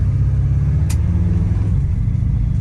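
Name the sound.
1963 Impala car driving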